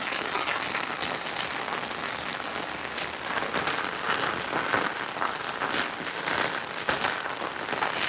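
Steady rain falls on a hillside home stay in Uttarakhand, a dense, even hiss with scattered closer drips, continuous and fairly loud throughout with no voices.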